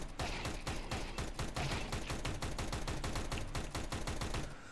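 Tec-9 pistol fire in CS:GO, a rapid unbroken stream of sharp, loud shots spammed for nearly five seconds, evenly spaced and dense, with no talking over it.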